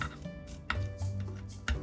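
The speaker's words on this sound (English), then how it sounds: "I'm going to cut it into fine strips because it's easier to fry" A knife chops through soft turnip cake on a board, cutting fine strips, a few quick thuds in a short uneven rhythm, close by.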